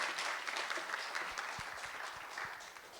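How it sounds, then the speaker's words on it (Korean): Applause rises from the audience at a book concert, a soft, somewhat distant wash of many hands clapping that fades slightly toward the end. "다시 한번 큰 박수 부탁드리겠습니다"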